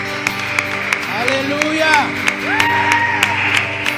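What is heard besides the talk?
congregation applauding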